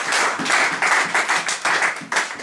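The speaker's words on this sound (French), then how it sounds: "Donnez-moi l'acclamation," A church congregation claps in acclamation, a dense close crowd of hands beating in uneven surges that swell and dip, with a few voices faintly mixed in.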